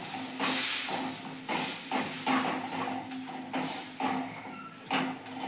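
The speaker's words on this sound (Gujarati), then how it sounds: "એ ડ્રાય રોટલો આપણે જે કાઢ્યો છે એની અંદર જ હવે આપણે છાશ નાખવાની છે" Buttermilk poured into a hot pan over dry Kathiyawadi rotlo for vagharelo rotlo, giving a broad hissing sizzle that surges in repeated bursts and settles between them, close and steady with no talking.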